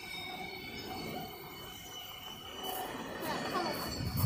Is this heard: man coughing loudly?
no